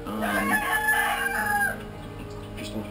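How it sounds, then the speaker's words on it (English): A rooster crows loudly nearby in a long drawn-out call, with chickens clucking and chattering around it, then quieter clucks continue. "just let the chickens out, so they're kind of noisy right now."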